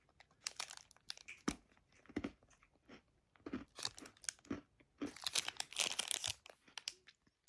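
Crunchy bites and chewing on a chocolate-covered strawberry, close and fairly loud, in several irregular bursts with soft crinkly textures between them and no talk.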